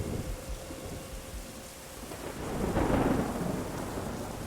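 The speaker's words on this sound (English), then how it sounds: "Cold air and the sound of the rain poured inside." Steady heavy rain hisses throughout while a deep roll of thunder swells up midway and lingers.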